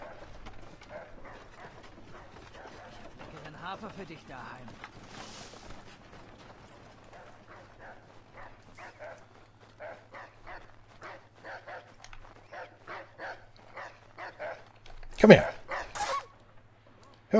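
A dog in Assassin's Creed 3 barks in repeated sharp yaps, spaced irregularly and growing denser toward the end, with a louder burst near the close, heard over a low steady game hum.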